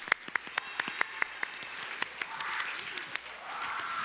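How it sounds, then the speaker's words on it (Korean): Church congregation clapping to welcome newly appointed volunteers at a Sunday worship service, starting as distinct, fairly regular claps and blending into a softer, broader round of applause, with faint murmuring beneath. "우리 박수로 환영합시다."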